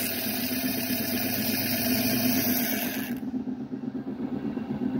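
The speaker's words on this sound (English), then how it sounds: "It's just moving the stone up and down on the lap." An automatic preforming machine moves a stone up and down on a lap, giving a steady mechanical motor hum with a rhythmic pulsing that continues throughout; a high whine drops away partway through.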